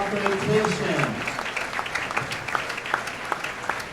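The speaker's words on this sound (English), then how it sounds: "let's give these finalists another round of applause as they begin their double elimination match play competition." Spectators at a junior bowling championship applaud the finalists, a steady round of clapping heard alongside a speaking voice over the crowd.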